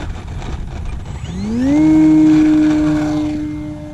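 Cessna airplane on a touch and go, its engine note rising in pitch and loudness as power is added, then holding a steady drone that slowly fades.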